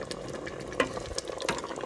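Chili is stirred in a Cosori pressure cooker, giving soft scraping and sloshing with a few louder clinks of the spoon against the pot, close and steady over a low simmering hiss.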